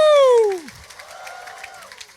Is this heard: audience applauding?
yes